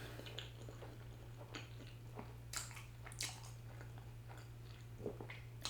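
Soft bites and chewing of Trinidad doughnuts with hot sauce, close and quiet, with scattered moist crunches and squishes over a steady low hum.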